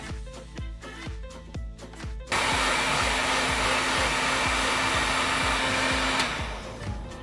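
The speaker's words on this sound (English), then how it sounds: "I'm going to heat seal this like everyone suggested" Handheld heat tool heat-sealing cosplay foam switches on after a few seconds of steady rhythmic background thumps, then blows a loud, continuous, close airy roar for several seconds, with the thumping still faintly underneath.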